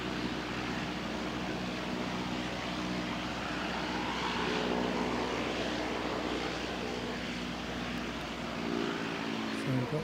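Jetstar airliner at an airport after pushback, a steady loud engine drone with low tonal hum lines filling the whole stretch, close and continuous, with faint talk beneath.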